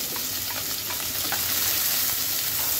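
A cup of chopped onion hitting hot oil for chicken kofta curry, a dense, loud, continuous sizzle close by, without speech.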